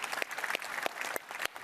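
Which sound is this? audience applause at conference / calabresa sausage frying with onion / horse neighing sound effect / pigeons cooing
audience applause at conference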